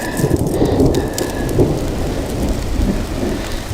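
Heavy rain pours down with rolling thunder on a mountain near Moon Lake, a loud continuous downpour with low rumbles swelling throughout.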